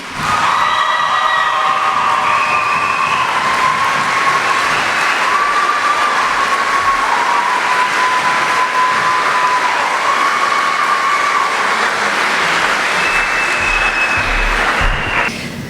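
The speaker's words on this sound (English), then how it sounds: "Please give a huge round of applause to Jasmine Young" A graduation ceremony crowd cheers and applauds a graduating student, loud and continuous, with whoops and shouts riding over the clapping and a high whistle-like tone running through.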